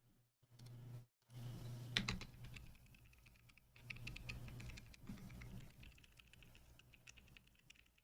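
Keys clatter and patter on a mechanical keyboard during a keyboard build, irregular bursts of close typing with a few louder rattles and brief pauses, and no voices.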